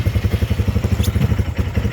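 A 2024 Polaris RZR 200 engine runs just after a key start, a close, loud, steady low putter of rapid regular pulses with faint mechanical clatter and no talking.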